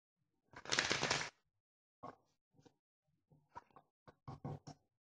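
Tarot cards are shuffled close by in a quiet room: one long riffle, then several short, crisp bursts and taps of cards being handled.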